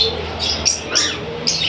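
A breeder pair of green ring-necked parakeets gives sharp, high chirps and squawks in a few quick bursts, close and loud over a steady background hiss.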